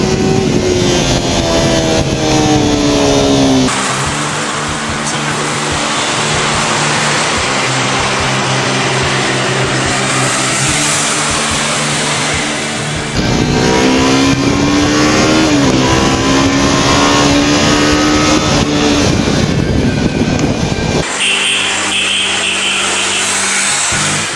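Yamaha YZF R3 twin-cylinder motorcycle engine revving with a loud, continuous tone that climbs and falls through several sweeps, broken by abrupt shifts in pitch, sounding gruff like a bigger single.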